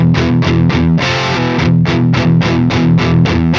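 Heavily distorted metal guitar through an MLC Sub Zero amp sim with EL6 tubes, chugging palm-muted riffs in a tight rhythmic pattern with a brief sustained chord, loud and dense.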